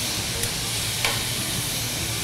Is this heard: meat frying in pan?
yes